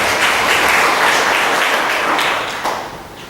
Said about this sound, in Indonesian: mari kita beri apresiasi tepuk tangan buat Pak HRS.